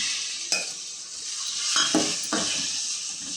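Tomatoes tipped into a pan of sautéed onions and stirred, a continuous frying hiss broken by a few scraping and clanking spoon strokes against the pan, close and without talk.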